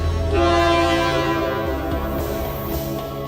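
A passenger train approaching a level crossing, a steady loud rumble with sustained tonal horn-like lines holding throughout, close and continuous with no talk.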